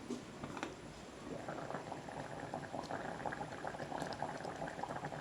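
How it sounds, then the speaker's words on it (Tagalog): A pot of rice bubbles steadily at a rolling boil, a constant soft gurgling hiss with no voices. "kumukulo na yung sinaing"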